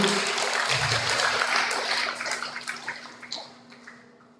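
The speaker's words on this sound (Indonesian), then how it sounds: "Tepuk tangan" Lecture audience at a university public lecture clapping, a dense burst of applause that thins out and fades over a few seconds into scattered claps.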